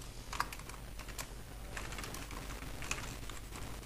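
Typing of R code on a computer keyboard, scattered soft key clicks over a steady hum, close and fairly quiet with no talking.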